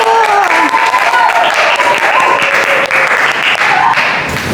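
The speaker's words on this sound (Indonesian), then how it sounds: "Beri tepuk tangan untuk kelompok 1" Students in a classroom clap loudly and continuously for a presenting group, with excited voices calling out over the applause.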